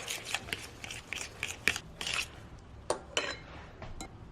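A utensil scrapes and clinks against a bowl while sugar and flax eggs are mixed into mashed banana for a vegan chocolate banana bread batter, in quiet, irregular taps and rasps.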